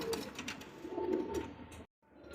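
Pigeons at a pigeon farm give soft, low cooing calls at close range over faint background noise, then fall briefly silent near the end.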